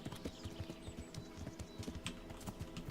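A horse's hooves clip-clop steadily in Kingdom Come: Deliverance, an even walking rhythm at moderate distance over a soft ambient game backdrop, with no talking.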